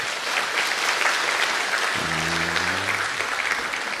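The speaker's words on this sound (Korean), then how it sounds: "우리 박수를 한번 하시죠." A church congregation at a Sunday worship service claps together, steady dense applause filling the room, with a brief low tonal sound joining midway.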